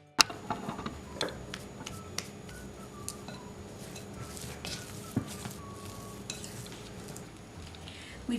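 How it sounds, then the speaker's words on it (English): Ingredients for vegetarian chalupas being mixed by hand, with soft stirring and scattered small clicks and taps of utensils against a bowl, steady and close, and no talk. "We're gonna start mixing the ingredients for the chalupas."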